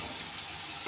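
Onions frying in a pan with Kashmiri chili powder added give a steady, close, even sizzle that crackles throughout, with no voices.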